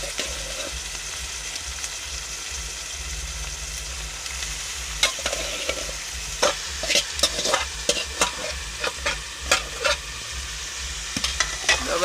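Jackfruit frying with spices in a pan is stirred, with a low steady sizzle and a run of quick close scrapes and taps of a spoon against the pan, growing busier toward the end.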